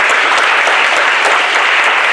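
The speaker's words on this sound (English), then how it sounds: "can we please give them a round of applause?" Loud, steady applause from an audience at a fatherhood awards ceremony as recipients from Cedar Prairie receive their awards, dense clapping sustained evenly throughout.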